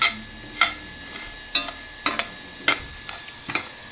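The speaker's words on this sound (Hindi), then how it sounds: "इसको हम एक एक करके भूनते हैं और भून के फिर आपको दिखाते हैं। बिना तेल का भूनेंगे हम सबको" Whole spices dry-roasted in a pan without oil for sambar powder, with sharp intermittent scraping and rattling strokes as they are stirred, close and fairly clear over a low background.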